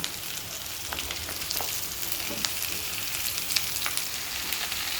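Jackfruit sautéing in a pan gives a steady, close, crackling sizzle that runs unbroken throughout, with small pops and clicks on top and no talk.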